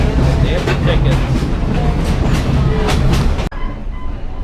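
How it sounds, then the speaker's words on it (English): Passenger train on rough track rolling steadily with rhythmic clickety-clack wheel beats and a loud rumble close by, then the noise drops sharply near the end. "It sloshes all over the place because it's so rough."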